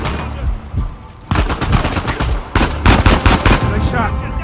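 Loud bursts of automatic rifle fire in the video game Uncharted 4: A Thief's End, rapid close shots in dense clusters with a brief lull before the heaviest volleys.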